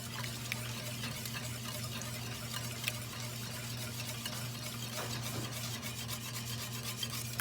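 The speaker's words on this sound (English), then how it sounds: "then you just gotta whisk everything until it's very homogeneous" A whisk stirring milk into au gratin potato sauce in a pot, a steady scraping, swishing rub with faint liquid churning underneath, close and continuous over a low hum.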